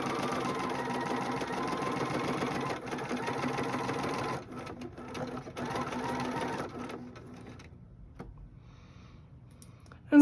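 A sewing machine stitching a quilt block, with a fast steady mechanical whir and rapid needle ticking that pauses briefly, resumes, then slows and stops near the end, up close with no talking.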